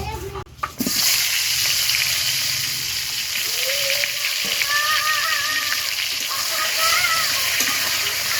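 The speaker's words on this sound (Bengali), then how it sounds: "গরম হয়ে গেছে এবার তেলের মধ্যে মাখিয়ে রাখা বেগুনটা দিয়ে কিছুক্ষণ আমি ভাজি নেবো" Oil-coated eggplant is dropped into hot oil, setting off a loud, steady crackling sizzle that runs on after a brief clatter at the start, with faint tonal sounds in the background.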